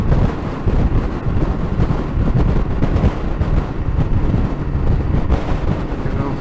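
Strong wind buffets the microphone during a Yamaha Tenere 700 motorcycle ride in Wales, a loud, continuous low rumble with gusty surges throughout and no clear voices.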